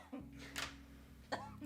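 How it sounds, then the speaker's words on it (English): A couple of short, soft coughs from a person, separated by about a second, over a steady low hum in a quiet room. "It's making me cough too"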